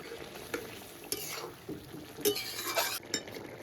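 Shrimp gravy being stirred in a pan after ground roasted cumin is added: a spoon scraping and clinking against the pot over a steady sizzle, with repeated stroke bursts and no talk.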